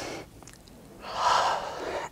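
Heavy breathing during a Pilates reformer exercise: a quiet airy inhale, then a louder, longer breathy exhale near the microphone, with no talking.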